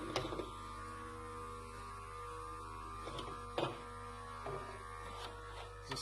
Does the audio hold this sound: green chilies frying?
no